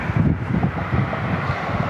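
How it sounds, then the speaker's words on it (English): Gusty wind buffets an outdoor microphone at an airport plane-spotting spot, giving a loud, steady low rumble with irregular surges and no clear voices. "The wind has definitely picked up."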